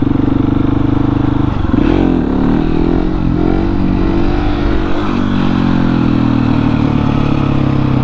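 A 701 motorcycle engine drones loud and steady while the rider does wheelies, with rising and falling revs layered over a constant throaty rumble close to the microphone.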